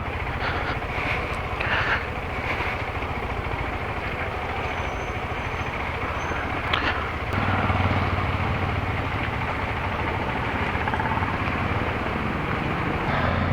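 A KTM Adventure 390 motorcycle rides on the road toward Salem, its engine a continuous droning rumble mixed with wind noise, steady and close throughout with no talking.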